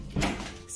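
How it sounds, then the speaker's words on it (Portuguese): A short, soft whoosh and thud as a door is opened indoors at a family surprise, a single brief sound with no talking over it. "eu vou abrir a porta"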